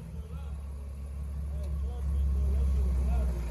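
A car with a loud, raspy aftermarket exhaust rolls past, its deep engine rumble swelling louder as it nears, while people talk over it.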